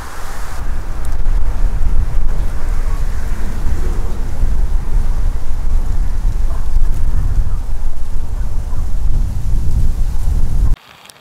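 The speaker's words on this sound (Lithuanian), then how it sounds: "Na ir va, ir vėl lyja." Rain falling over the Nemunas river, a dense, steady rumbling wash with wind buffeting the microphone throughout, loud and unbroken until it drops away sharply near the end.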